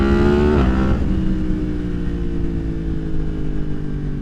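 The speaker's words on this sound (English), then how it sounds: "mine and Dean's bikes sound the best by far" A Yamaha MT-10 motorcycle fitted with a Leo Vince slip-on exhaust revs loudly up close, its engine note climbing sharply then dropping back to a steady, rumbling idle with no voices.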